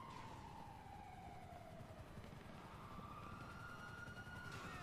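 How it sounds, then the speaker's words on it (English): Police sirens wail steadily in the GTA 5 video game, a loud sweeping tone that glides up and down over a dense rumble of game noise, continuous throughout with no talking. "The sirens are so very loud."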